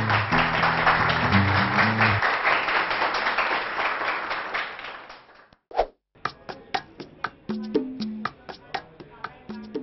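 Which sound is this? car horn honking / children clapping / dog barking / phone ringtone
children clapping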